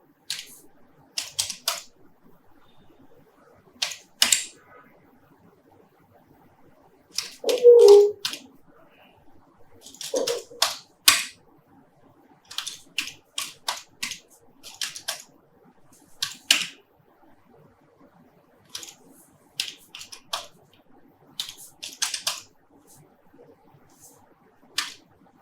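Scattered bursts of keystrokes on a computer keyboard while dates are entered into an Excel spreadsheet, with short irregular clusters of clicks and pauses between them, fairly close and with no talking.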